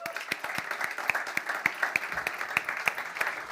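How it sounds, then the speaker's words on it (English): An audience gives a round of applause to welcome footballer Rachel Furness at a UEFA women's under-17 championship draw, a dense patter of clapping with a few sharper claps standing out, moderately loud and steady throughout. "Please give a massive round of applause to the amazing Rachel Furness"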